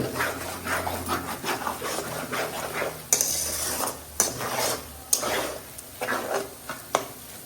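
Sliced bitter gourd being stir-fried in a pan at home, with repeated scraping and clattering of a spatula against the metal, a steady close rhythm of stirring strokes and a few sharper knocks, no talking.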